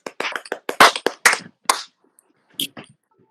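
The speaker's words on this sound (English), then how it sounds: "give yourself a round of applause" Students in an improvisation class clap in a brief, scattered burst of crisp claps that thins out and stops within two seconds, followed by a few isolated taps in near silence.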